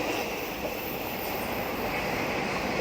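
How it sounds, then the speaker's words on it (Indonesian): A train rolls past close by near Imamiya station in Osaka, a continuous loud rumble and hiss of wheels on rails that stays steady throughout, with no talking. "Ada kereta lewat."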